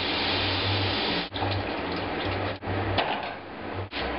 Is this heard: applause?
no